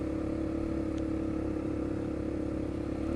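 A Yamaha Sniper motorcycle engine runs at a steady, close, even drone with a buzzy mid-range tone. The revs do not clearly rise or fall, and nobody speaks.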